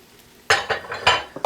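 A utensil stirs beef and flour in an Instant Pot, producing several loud scraping clinks against the metal pot in a quick irregular sequence after a quiet start, close and without speech.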